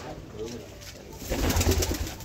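Breeding pigeons coo softly in a home loft, low burbling calls rising near the end, with a person talking faintly over them.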